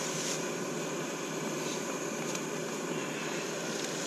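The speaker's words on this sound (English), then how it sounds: "little jet boiler." A compact jet boiler camping stove burning steadily outdoors at a bushcraft camp, giving a continuous even hiss-roar that stays constant and moderately loud for the whole stretch with no talking over it.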